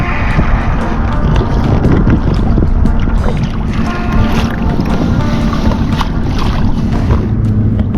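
Steady, loud wind buffets the microphone while kayaking on Lake Erie near Buffalo, New York, with water lapping against the hull throughout.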